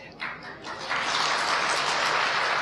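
Large seated audience at a spiritual talk bursting into applause, a dense wash of clapping that swells after a moment and holds steady to the end.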